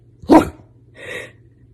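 A dog gives a single sharp bark on command, then a softer, breathy bark-like sound a moment later, both close and loud with no talking.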